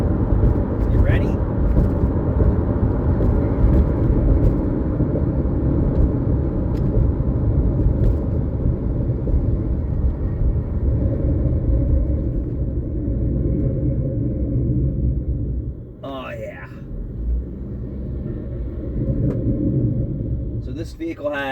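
A Chevrolet Traverse with grinding brakes and a worn front motor mount, driving with a continuous low rumble of road and drivetrain noise. The drone stays steady and close, dipping briefly near the end.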